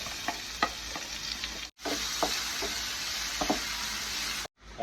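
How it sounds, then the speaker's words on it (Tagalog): Onion and garlic sautéing in the same pan that seared beef, a continuous close sizzle punctuated by spatula scrapes and stirring taps, briefly cutting out twice. "Sa same pan kung saan natin niluto yung ating beef, satein na natin yung onion at garlic."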